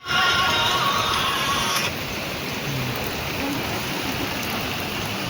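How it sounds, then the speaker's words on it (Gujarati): Heavy rain pours down in a steady broadband wash, loudest at first with a brighter hiss that drops after about two seconds to a softer, continuous patter; no talking is heard. "આવો વરસાદ આવી ગયો"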